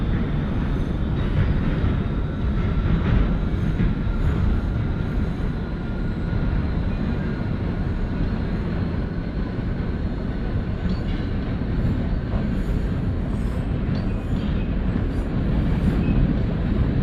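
A simulated NYC Subway R160A Alstom train on the W line to Gravesend in the OpenBVE game, rumbling steadily and loudly with a continuous rolling roar and faint squeals throughout.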